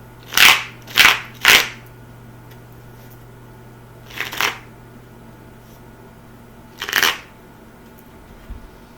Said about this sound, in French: On va aller voir, on va brasser ça un petit peu là, avant la coupe.